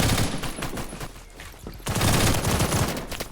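Automatic fire from a FAMAS F1 rifle in the Phantom Forces video game, loud rapid bursts of gunshots with a short pause in the middle before another sustained burst.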